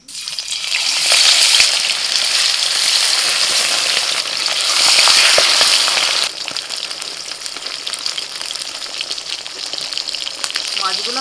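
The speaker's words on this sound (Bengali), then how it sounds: "তেল গরম হয়ে গেছে, এবার মাছ ভেজে নেব।" Bata fish frying in hot oil in a pan, a loud, dense crackling sizzle that swells and then drops to a quieter steady fry partway through, with no talking over it.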